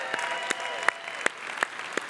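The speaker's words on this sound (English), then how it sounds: "feel free to let it out. We're okay with cheering." Keynote audience at Dreamforce 2023 clapping with scattered sharper hand claps standing out, a steady moderate applause that carries on without spoken words.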